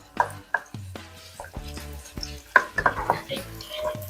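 Garlic stir-fried in a wok for a giant plate of fried rice: a spatula scrapes and clanks against the metal in irregular strokes over a soft sizzle, close and moderately loud, with no talking.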